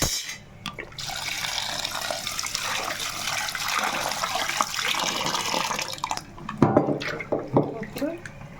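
Hot water pours in a steady splashing stream for several seconds while cooking mutton curry, then a few clinks and handling sounds follow.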